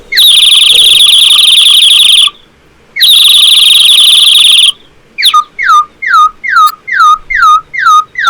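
A traditional bamboo whistle imitating birdsong: two long, loud, shrill trilling blasts separated by a short gap, followed by a quick series of sharp, repeated chirps in an even rhythm, all close and alone.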